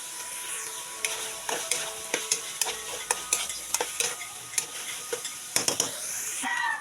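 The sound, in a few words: hotdogs frying and being stirred in a pan for spaghetti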